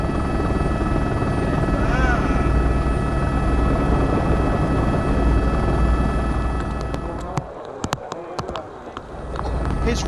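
A helicopter beats steadily overhead above a muddy 2002 Cyprus rally stage, a loud continuous rotor drone that thins out near the end, with a commentator talking over it.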